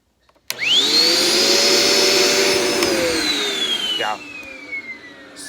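A Dirt Devil Express Vac handheld vacuum cleaner switches on abruptly, its motor whine rising to a steady loud pitch and holding close to the mic, then the tone shifts and begins winding down near the end.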